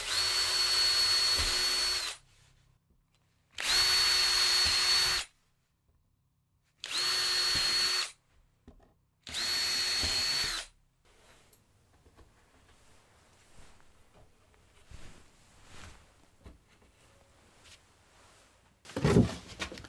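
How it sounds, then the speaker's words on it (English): Four short bursts from a power drill boring pilot holes in wood for saw stands, each a loud whine lasting about two seconds with pauses between, followed by quieter workshop handling noises. "I'm going to get some pilot holes drilled"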